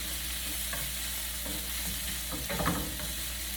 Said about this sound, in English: Letting that all saute up in the butter and the garlic and in some olive oil